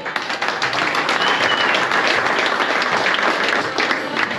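Spectators at a golf prize-giving ceremony for a national amateur cup final applaud in a dense, steady wash of clapping that fills the whole moment, close and evenly sustained with no pauses.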